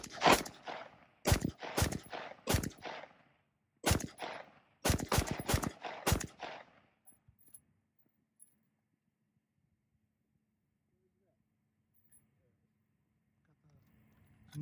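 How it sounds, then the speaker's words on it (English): An AR rifle firing at close range in a series of loud separate shots, some in quick pairs, over about six seconds, then near-silence with faint background noise. "we're going to go into another shooting phase and see if there's any more damage that's sustained to the rifle"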